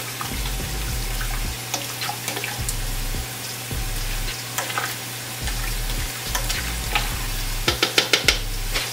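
Vegan collard greens with hot sauce stirred in a pot, a steady wet bubbling simmer with repeated spoon scrapes and knocks against the pot and a few sharper clinks near the end.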